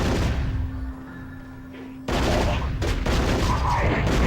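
Gunfire in the Nintendo 64 game Turok: Rage Wars, dense sustained shooting over a loud background, dropping briefly then surging back to full intensity.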